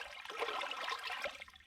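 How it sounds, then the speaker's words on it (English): A cleaned brook trout is rinsed in stream water, giving a short, soft swish and trickle of moving water, faint and close, with no voices. "then you rinse it in the water"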